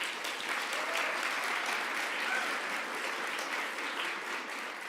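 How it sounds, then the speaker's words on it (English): Applause from a graduating-class audience at a medical school Match Day ceremony, steady dense clapping that holds evenly for about five seconds at moderate distance with no voices over it. "let's give him a round of applause as well"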